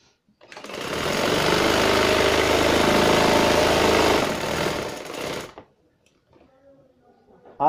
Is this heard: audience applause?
no